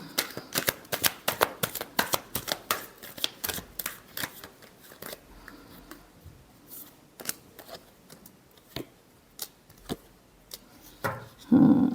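Tarot cards being shuffled by hand up close: a rapid run of crisp riffling and slapping bursts, thinning out toward the end, with no talking.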